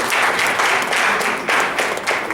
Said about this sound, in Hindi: द्रौपदी मुर्मू जी राष्ट्रपति है, सर्वोच्च, तो ताली की तो बनती है।